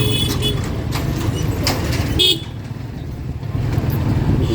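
Dense traffic jam on a road while riding a motorbike, with an engine rumbling steadily and several short car horn toots cutting through near the start.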